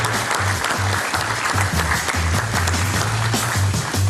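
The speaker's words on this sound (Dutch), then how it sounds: "En mag ik een hartelijk applaus voor Mariska" A studio audience at a Dutch television show applauds steadily to welcome a guest, with dense and even clapping throughout and a low rhythmic musical pulse underneath.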